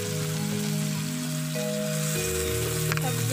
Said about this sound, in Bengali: 2 মিনিট ভালো করে মশলাগুলাকে ভেজে নিয়েছি।